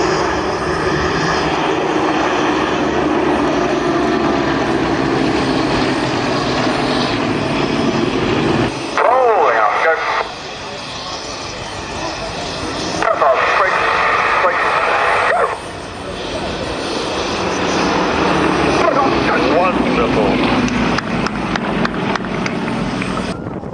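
Aircraft engines roar loudly as a six-ship chevron formation passes over an airshow, the noise swelling and dipping as the jets go by, with a commentator's voice running over the top.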